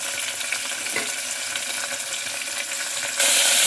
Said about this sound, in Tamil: நல்லா வதக்கிறது